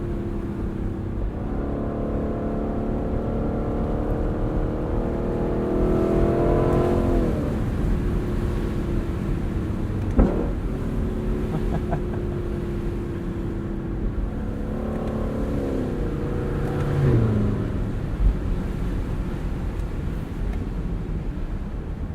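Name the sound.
Lexus LC sports car engine while driving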